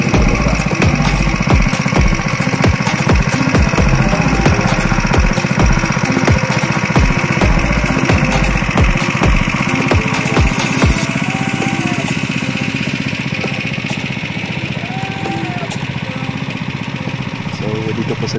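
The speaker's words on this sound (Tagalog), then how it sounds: "gumagamit sila ng makina para i-pump yung tubig galing sa" A loud engine-driven water pump on a farm running steadily and close, with a rapid thudding rhythm that fades partway through, leaving a constant droning hum.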